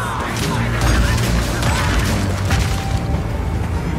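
Armor-piercing crossbow bolts fire in the Path of Exile 2 video game, a dense, loud barrage of mechanical clacks, impacts and booming bursts layered over rumbling game effects.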